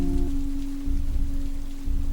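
Steady rain on a road at night, a dense continuous patter with a low rumble beneath and a faint sustained hum, even and unbroken throughout.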